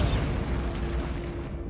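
A Bombarda blast spell goes off in Hogwarts Legacy with an immediate loud boom followed by a rolling, rumbling decay of debris and roar that gradually fades.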